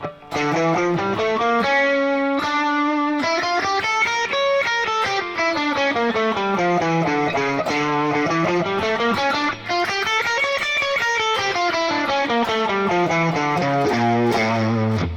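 A distorted electric guitar runs up and down an A harmonic minor scale in a steady stream of notes, loud and sustained, with no talking.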